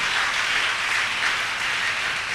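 A church congregation applauds during a worship service, a steady, dense wash of clapping that holds at an even level for the whole stretch without pauses.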